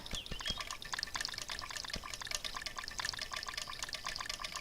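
Footsteps splashing through shallow water in the video game Cube World, a steady run of close, bright watery slaps and drips that carries on throughout with no talking.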